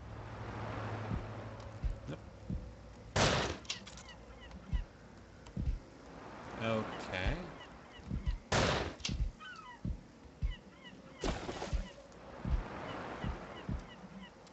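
Birds in a video game honk loudly and repeatedly in irregular bursts over a steady game background, with a few sharp bangs mixed in.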